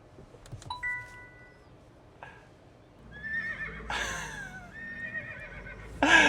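A horse neigh played through the speaker of a Zeekr 7X car, a loud whinny that rises and falls with a sharp burst near the end, preceded by a few chimes and electronic tones.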